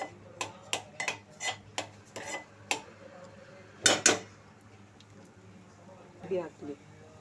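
Cashews and raisins stirred in a pan for sheera: a run of sharp metallic spoon scrapes and clinks against the pan, evenly spaced, then a louder double clatter and a few softer scrapes, with a quiet voice briefly.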